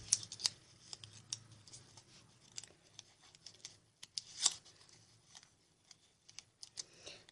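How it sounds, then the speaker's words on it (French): Sheets of wrapping paper folded and creased like gift wrap at a craft table, giving soft crinkles, rustles and sharp little snaps in an irregular, close, quiet rhythm. "on replie comme si c'était un vrai papier cadeau"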